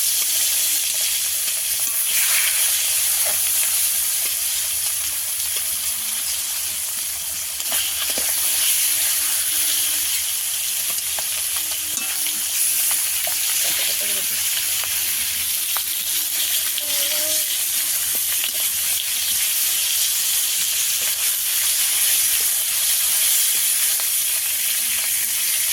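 Tengra fish marinated in turmeric sizzles steadily in hot oil, a loud, continuous frying hiss with light crackle that runs unbroken from start to finish, with no voices over it.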